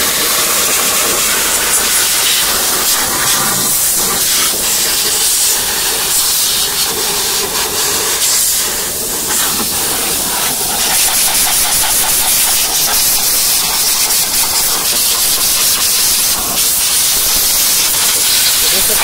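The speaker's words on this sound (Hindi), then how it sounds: "इसके लिए हम हवा मार के पूरे सेंसर को क्लीन कर रहे" Compressed air blasts loudly over engine sensors of a Maruti Suzuki S-Cross during repair, a harsh, continuous close hiss that lasts throughout.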